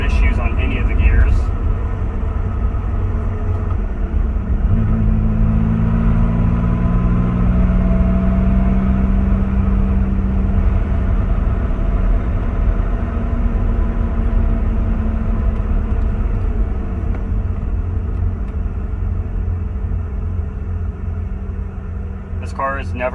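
A 1976 Porsche 911S Targa engine drones steadily through a test drive, a loud, continuous cabin rumble with a rising tone as it pulls through a gear, and a voice talking over it.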